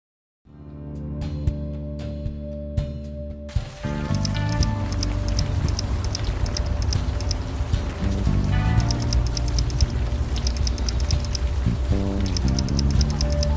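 Steady rain falls in the video game Unavowed, a dense hiss of drops pattering on surfaces that starts after a few seconds of quiet music and then runs continuously, close and loud, with no talking.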